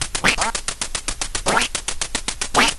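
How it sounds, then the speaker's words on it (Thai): Ducks in the Duck Hunt video game quack loudly and repeatedly, a nasal quacking call with a rapid pulsing rhythm over a busy stream of game sounds. "เอ๊ะเป็ด เดี๋ยวก่อน เป็ดมันบินได้แล้วเหรอวะ"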